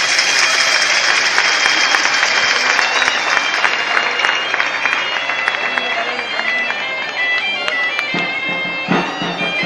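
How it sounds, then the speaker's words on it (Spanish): Sustained audience applause fills the outdoor grounds of the Cabrales cheese festival, a dense, loud wash of clapping held steady throughout, with a few sharper claps standing out near the end. "Les despedimos con un fuerte aplauso."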